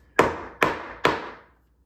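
A hammer strikes wood three times in a steady rhythm, each knock crisp and close, then silence.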